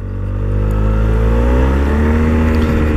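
A 2017 Yamaha TMax DX 500cc twin-cylinder scooter engine pulls away and accelerates, its note rising steadily and loudly close by, with no voices over it.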